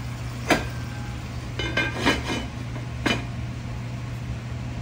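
Chicken being stirred in a cooking pot and covered with a lid: a few sharp metallic clinks and scrapes of spoon against pot, then a lid clank, over a steady low kitchen hum.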